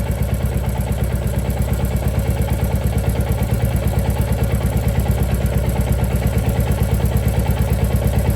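A Royal Enfield Classic Reborn single-cylinder motorcycle engine idles close by with an even, steady thumping pulse that holds constant throughout, with no voices.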